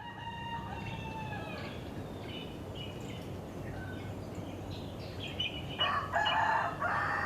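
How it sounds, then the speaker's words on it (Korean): Roosters in a Vanuatu village crow before dawn, several long overlapping calls rising over a steady outdoor background hiss, one louder crow ringing out near the end. "이놈의 닭들은 새벽 4시부터 우러젖힌다."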